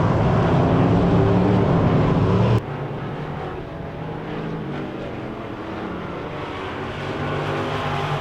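Wissota Midwest Modified race cars roar around a dirt oval at night, a dense, steady engine drone with a sharp drop in level after about two and a half seconds, then a gradual swell as cars approach.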